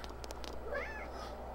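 A single short meow from a cat in Persona 4, faint and close, rising over a steady background of game ambience.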